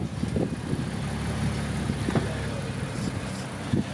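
An Infiniti Q50 with a power mod runs nearby with a low, uneven rumble and occasional small pops, while people talk faintly in the background.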